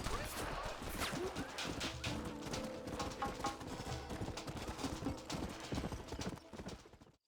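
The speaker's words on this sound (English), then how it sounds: "Get away from them horses!" Several horses in the Red Dead Redemption video game clatter with dense, rapid hoofbeats on hard ground, loud and continuous, with a brief whinny and some muffled voices mixed in.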